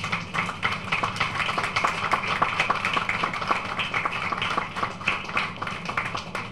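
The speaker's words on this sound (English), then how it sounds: "I want you to give him a round of applause" A school crowd applauds project leader Mr. Marshall at an assembly, a steady patter of many hands clapping that carries on evenly at moderate loudness.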